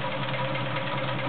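A Morse Fotomatic III 4300 sewing machine, freshly serviced and in near mint condition, runs a straight stitch with a steady, even mechanical whir, close and alone with no talking.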